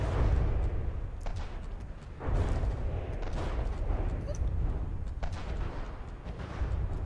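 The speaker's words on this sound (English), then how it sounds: "Yeah, those are big APHE rounds, man." Heavy battleship guns in a pre-dreadnought naval battle game fire APHE shells, a dense rumbling barrage of deep booming volleys that overlap continuously with sharper blasts standing out.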